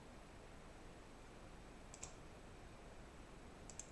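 A computer mouse gives two faint, isolated clicks about two seconds apart, very quiet over a steady background hiss with no talking.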